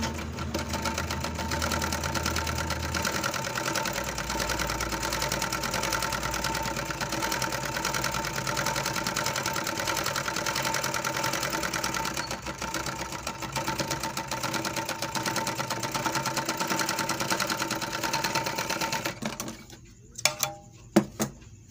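An overlock sewing machine with a needle fault skipping stitches, stitching a test seam in a fast steady mechanical whir that runs for about nineteen seconds, then stops, followed by a few clicks and knocks.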